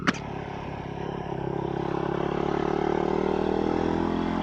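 A Fantic Caballero Scrambler 500 Deluxe motorcycle ridden at night on a dual carriageway, its engine droning steadily and building gradually under loud wind rush, with a brief click at the start and no talking.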